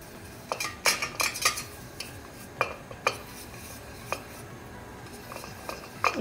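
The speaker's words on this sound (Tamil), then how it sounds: "அதில் இட்லி பிளேட்ஸில் வந்து நம்ம எண்ணெய் தடவிக்கலாம்." Metal idli plates clink and clatter in an idli pot as they are oiled, with several light metallic taps and scrapes coming in short bursts, close and fairly quiet.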